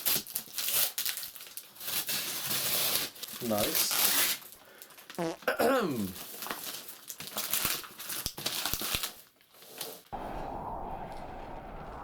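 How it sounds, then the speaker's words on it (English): Paper wrapping being cut and torn off a mystery package box, with loud crinkling, crumpling and ripping through most of the stretch, a short spoken remark in the middle, then a steadier rustle at the end. "So yeah, let's cut this paper."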